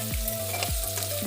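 Potatoes fry in a pan with a steady low sizzle, broken by a few scraping stir strokes, close by and moderately loud.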